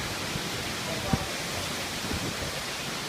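A waterfall at the Atlantis Paradise Island resort in Nassau, Bahamas, gives a steady, broadband rushing roar that holds at an even level throughout, with a faint brief knock partway through.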